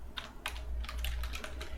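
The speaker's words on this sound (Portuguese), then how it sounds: "eu vou digitar alguma coisa" Someone typing into a login field on a computer keyboard, with a handful of clear keystrokes scattered over a low steady hum, a few sparse taps first and then a quicker cluster of presses.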